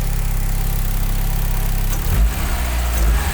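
E85-fueled, boost-tuned car engine on a dyno, loud steady high-rpm drone for two seconds, then a sharp throttle blip and a quick rev change, close and alone.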